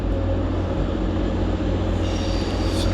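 Class 185 TransPennine Express unit departing York station, a loud, steady rumbling drone with a low engine throb and rail noise, close by and constant, with a faint high whine appearing toward the end.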